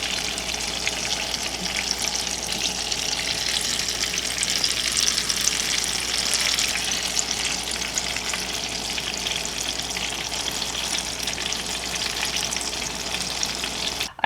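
Apple fritters made with half-and-half fry in hot oil, a steady dense sizzle and crackle that holds at an even level throughout with no talk.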